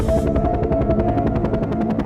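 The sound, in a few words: helicopter arriving, cartoon sound effect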